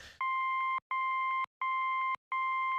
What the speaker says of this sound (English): every time you hear that beeping sound, it's me holding down the space bar